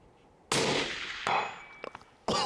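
A rifle bullet strikes a Caldwell AR500 steel deer silhouette target with a loud metallic smack that rings and decays, then a second sharp impact follows near the end.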